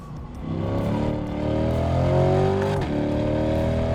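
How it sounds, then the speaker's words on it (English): A C8 Corvette 3LT with Z51 package lets its V8 rumble and build in revs from inside the cabin, a deep, loud, steady drone that rises before a quick downshift blip near the end. "you hear that bassy V8 behind you. You probably heard that downshift."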